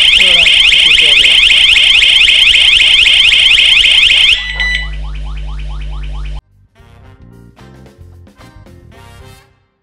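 A Cozoney Tuya Wi-Fi home alarm siren wails loudly and steadily for several seconds, then cuts off and gives way to quieter electronic beeps and tones.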